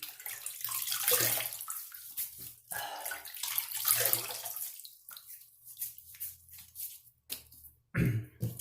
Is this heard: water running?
yes